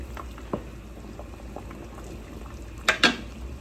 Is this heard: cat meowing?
no